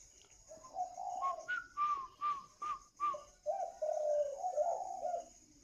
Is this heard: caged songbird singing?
yes